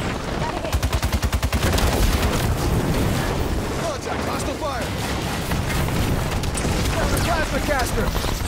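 Dense gunfire from a 12v12 Halo 5 Warzone battle on Escape From A.R.C., with rapid rhythmic bursts early giving way to a continuous loud din of shots and booms, overlaid by radio-style voices.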